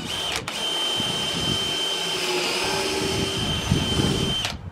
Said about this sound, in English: Drill right through that knot.